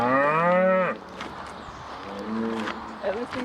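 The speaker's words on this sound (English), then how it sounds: "And listening to that noise, so you know how to do the moo" Cattle at a Sioux Falls livestock auction arena give one loud, drawn-out moo lasting about a second, followed by a quieter, lower call a moment later amid a murmuring crowd.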